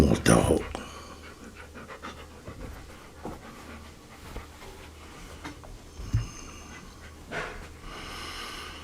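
A dog pants in rhythmic bursts, loud at the start and then quieter, with people talking over and around it.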